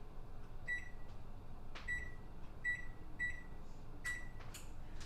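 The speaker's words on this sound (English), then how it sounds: "So let me go ahead and get that oven started" An oven beeps as it is set to preheat to 375 degrees, a run of short bright electronic tones spaced irregularly over a quiet room hum.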